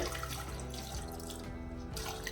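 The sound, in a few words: water poured into cooker with sweet potato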